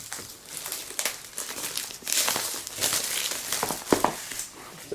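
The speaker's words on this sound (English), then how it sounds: "or at least try and cut the plastic" Plastic wrap is cut and pulled off an Apple MacBook Air SuperDrive during an unboxing, a close crinkling and rustling that swells and eases with a few sharper crackles.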